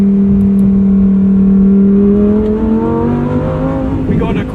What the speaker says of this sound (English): It will auto upshift at redline in sport mode.